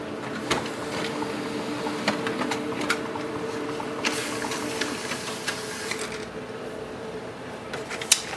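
A Brother HL-L3280CDW laser printer runs a print job, with steady mechanical whirring and repeated clicks and clacks from the paper feed, close and alone.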